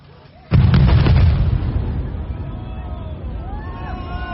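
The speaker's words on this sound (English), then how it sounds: "demolishing a cooling tower, except it's demolishing both of them at the same time" Two cooling towers brought down together by explosive demolition: a sudden loud blast followed by a long rumbling roar that slowly fades, heard from a distance with faint crowd noise.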